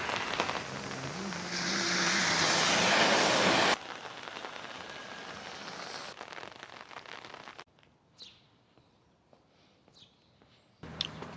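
Rain pours down loudly in a park at first, a dense steady patter, before the sound cuts to quieter outdoor ambience.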